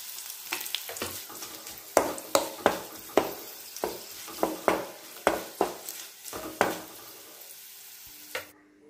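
Garlic, two dried red chillies and curry leaves fry in hot oil for tomato chutney, a continuous soft sizzle broken by a dozen sharp scraping stirs of a spoon against the pan, close up and without speech.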